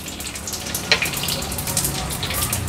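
Mustard seeds and cumin crackle and spit in hot oil, with curry leaves, for tempering: a steady sizzling hiss scattered with small pops, with a voice talking faintly underneath.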